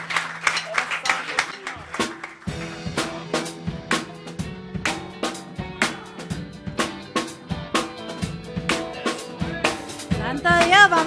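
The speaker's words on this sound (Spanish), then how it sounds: "Un aplauso para el Señor" Steady rhythmic clapping from a congregation during a church worship service, beating in time over singing or voices with music, continuous and fairly loud throughout.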